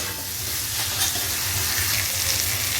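A little water poured over potato and pointed gourd frying in a pan sets off a loud, steady, hissing sizzle that holds without a break from start to finish.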